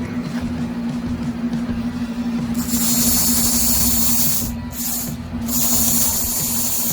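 An Aurora slimline slot car chassis motor fitted with neodymium magnets runs with a thin, steady whine and a bright hiss. The hiss cuts out briefly twice before picking back up.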